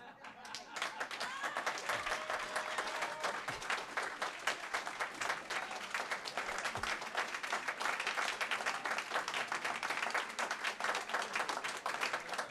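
Audience clapping fills a North Miami council meeting chamber, a steady dense applause lasting the whole stretch with a few faint voices mixed in.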